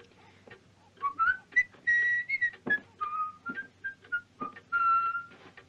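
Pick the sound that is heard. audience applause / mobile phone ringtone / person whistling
person whistling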